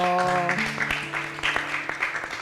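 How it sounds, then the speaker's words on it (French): Children clap and applaud loudly in a classroom, a dense patter of hands under a voice holding long sung or spoken tones, continuing for a couple of seconds. "On acclame très très très très fort."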